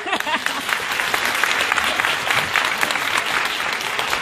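An audience at a chromotherapy lamp demonstration applauds, a loud, steady burst of clapping with a faint voice near the start.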